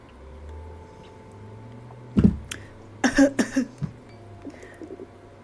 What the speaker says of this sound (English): Mom, that cough again